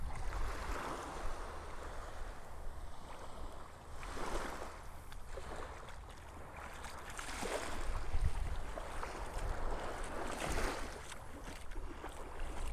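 Ocean waves wash continuously onto a beach in North Naples, Florida, a broad steady surf roar with swells rising and falling, plus some wind noise and no talking.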